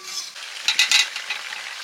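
Lightly pre-fried home-grown potatoes drop into a pan of frying spices for a meat curry, bringing a close, steady hiss of sizzling oil with a few brief louder bursts as they are stirred in.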